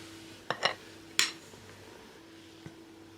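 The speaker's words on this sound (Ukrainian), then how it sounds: "Ретельно розмішуємо." A spoon stirring bread dough of flour, salt and starter in a bowl gives a few sharp clinks and scrapes close by, clustered early, then one faint tap in a quiet kitchen.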